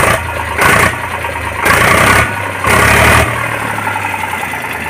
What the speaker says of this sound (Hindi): इंजन बहुत बढ़िया आवाज निकाल रहा है जी ट्रैक्टर का।